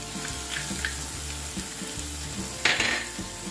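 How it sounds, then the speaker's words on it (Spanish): Garlic hits browned onion in a pan and sizzles in a close, steady hiss, with a few light stirring scrapes and a louder burst of crackling near the end. "Una vez que ya tenemos dorada nuestra cebollita, vamos a añadirle la cucharada de ajo."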